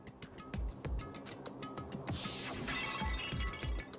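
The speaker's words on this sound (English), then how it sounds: "I grabbed the Monokuma bottle from the shelf and smashed it across her head." A Monokuma bottle smashes in the Danganronpa video game, a sudden bright shattering crash that cuts through steady rhythmic background music and trails off into the beat.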